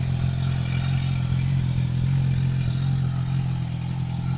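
A 2012 Suzuki GSX-R750 sport bike idles steadily nearby, its engine giving a continuous low, even rumble with slight mechanical clatter and no revving.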